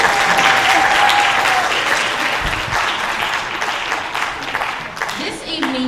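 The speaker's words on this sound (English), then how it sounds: "Yes, you can applaud for that." Sustained audience applause at a high school spring concert, loud and steady throughout with a few cheers and a brief voice near the end.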